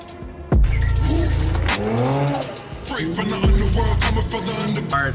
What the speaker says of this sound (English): Here's the test to see if he could take it off the driveway without scraping or breaking the front lip